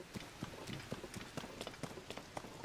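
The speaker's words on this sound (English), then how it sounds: "Of course it's raining." Rain falls in a Nintendo Switch video game as a soft, faint patter of scattered drops tapping across a surface, with irregular light ticks and no talking.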